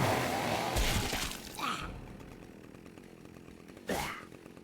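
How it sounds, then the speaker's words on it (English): Revving chainsaw in the Conker video game, loud at first and then tapering off, with two rising whine bursts, no talking. "What? Oh, chainsaw."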